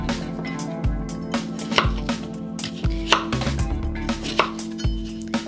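A knife chops shrimp or crab on a cutting board for tostadas, giving close, loud, fairly regular thuds about every second, with small clinks between strokes.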